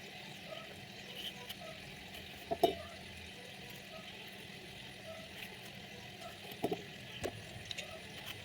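Shrimp fry quietly in a pan over a low gas flame, a faint steady sizzle broken by a few soft clinks as they are stirred. No voices are heard.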